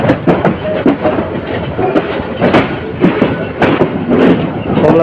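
A Chottola Express train rolls out of Kamalapur railway station in Dhaka, where track repair work is going on. Close, steady rumbling is broken by repeated clacks and thumps of wheels over rail joints.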